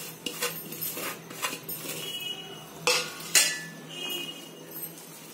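Potato filling with onion, red chilli and salt being mashed in a bowl for aloo paratha, giving a series of irregular metallic clinks and scrapes from a utensil, a few sharper knocks standing out.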